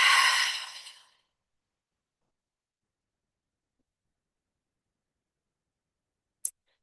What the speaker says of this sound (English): breathing in through your nose and out through your mouth